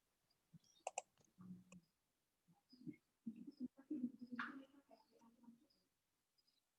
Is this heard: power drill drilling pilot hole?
no